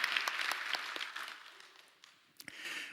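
Congregation clapping in a church service, brisk scattered claps at moderate distance that thin out midway, pause, then swell again briefly at the end.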